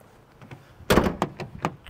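Car door of a Lincoln SUV being opened and handled, a sharp loud thunk followed by several lighter clicks and knocks at close range, with no talk.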